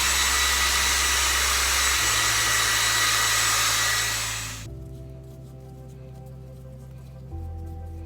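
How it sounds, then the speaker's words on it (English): Hair dryer blowing on damp hair, a loud, steady close roar that cuts off partway through, leaving a low lingering hum. "I'm just going to blow dry a little bit in this top part because it's still quite damp."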